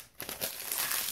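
A paper Target store receipt is crumpled by hand after a brief quiet moment, giving a close, crisp crinkling and crackling that rises quickly and keeps rustling to the end.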